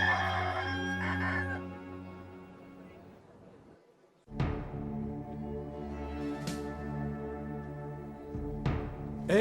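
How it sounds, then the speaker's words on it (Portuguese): Rooster crowing in an animated Christian film, two loud drawn-out crows with strong harmonic bands, separated by a short quiet gap, with musical or voice-like tones around them. "Pedro, antes que o galo cante, você me negará 3 vezes."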